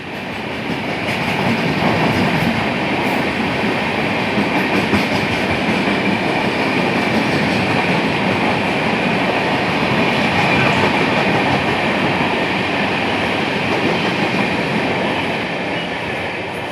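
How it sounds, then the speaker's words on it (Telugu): Nizamuddin–Chennai express train rolling past on rails, a steady loud rumble with rhythmic clickety-clack of wagon wheels sustained throughout and no voices. "నిజాముద్దీన్ నుంచి ఎంజిఆర్ చెన్నై వెళ్తుంది ఈ ట్రైన్"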